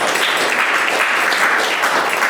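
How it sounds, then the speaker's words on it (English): Audience applause at a mirror room dedication, dense steady clapping from a crowd heard alone for a couple of seconds. "so round of applause for the Prez for shepherding Arcadia through this"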